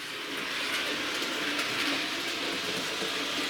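Model train rolling over Peco points in a fiddle yard, a steady, even whirring hum with faint rail clicks, close and continuous with no talking.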